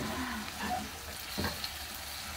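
Shishito peppers and anchovies stir-frying in a pan, a steady soft sizzle with faint stirring scrapes, quiet and continuous throughout.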